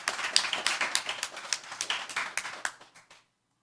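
Scattered applause from a small crowd at a town hall meeting, a patter of claps that thins out and stops after about three seconds.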